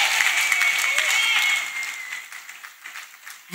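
Congregation applauding during a church testimony service, dense clapping strong at first, then thinning and fading out over a few seconds, with a sustained whistle-like tone above it early on.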